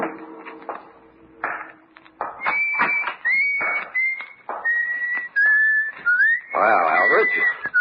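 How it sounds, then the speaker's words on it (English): A man whistles a cheerful tune at his work in a radio mystery drama, his clear sustained notes rising and gliding between a few short knocks and handling noises, close and fairly loud. "Whistle while I work."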